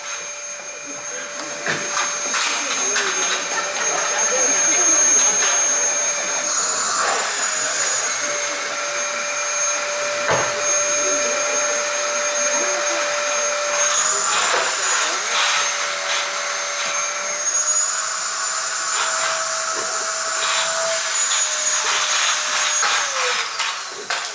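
A vacuum cleaner drones steadily and loudly throughout, its high motor whine holding constant with slight pitch shifts, with no pauses.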